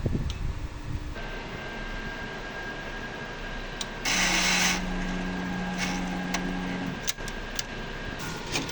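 A sublimation printer runs a head cleaning cycle, giving a steady mechanical whir with a louder burst of motor noise in the middle, a few sharp clicks, and a sustained tone underneath.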